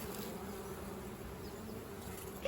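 Honeybees buzz in a steady, close drone at a beekeeper's hive as the queen bee is released, a continuous humming swarm sound with no voices.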